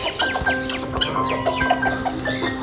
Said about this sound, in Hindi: इधर माशाल्लाह कॉकटेल वाले भी आवाज़ें दे रहे हैं